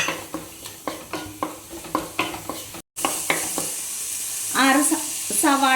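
Crushed green chillies, garlic and ginger sizzle in a pan as a spoon scrapes and stirs them in steady repeated strokes, with a brief gap before stirring and sizzling resume, close and fairly loud.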